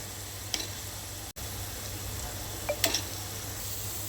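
Bombay duck fish frying in hot oil in a pan, a steady close sizzle with a few faint pops and clicks, no talking.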